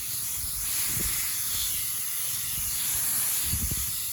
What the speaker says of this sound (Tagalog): kailangan ko ipakita sa inyo paano pag-spray kung gaano kahirap